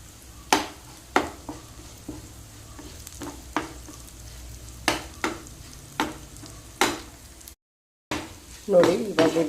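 Curry leaves frying in hot oil in a fish curry pan, a steady sizzle broken by repeated sharp scraping strokes of a spatula against the pan, with a short gap and a louder burst of sizzle near the end.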